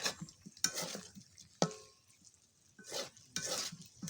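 Vegetable fry being stirred in a pan, quiet intermittent scraping and clinking of a spoon in a few separate bursts over a faint sizzle, no voices.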